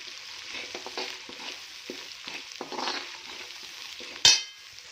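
Spice masala with garam masala and red chilli powder being stirred in a pan, soft scraping and light sizzling close by, ending with a sharp clink of the spoon against the pan.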